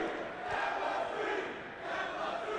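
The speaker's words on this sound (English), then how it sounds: "And listen to this crowd." A large wrestling event crowd roars and cheers continuously, a dense, loud wash of voices that swells slightly and stays steady throughout.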